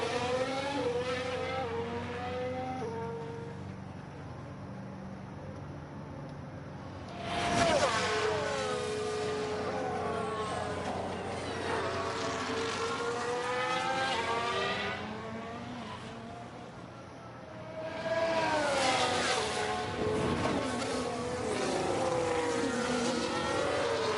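A McLaren Formula 1 car makes a pit stop in the F1 Manager 23 racing game. High-pitched engines whine with rising and falling revs, and loud surges as cars accelerate away mark the middle and the final third.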